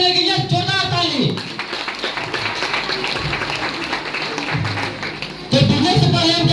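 Loud, dense clapping from a seminar audience in a business achievers' meeting, sustained for several seconds with a voice over the start and a louder burst near the end.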